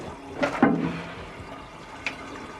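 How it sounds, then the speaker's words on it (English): Water trickles and splashes in short bursts into a toilet cistern that keeps leaking through a faulty ball valve, quiet and close with a couple of sharper drips against a soft background hiss. "It's just been leaking and losing a load of water."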